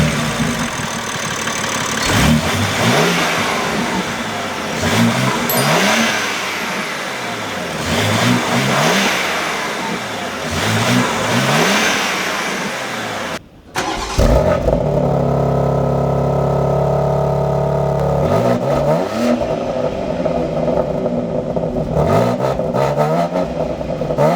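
A BMW X3 M Competition's 3.0L inline-six M TwinPower Turbo engine revs repeatedly, rising and falling in steady loud sweeps, then settles into a deeper, rumbling rev pattern after a brief cut.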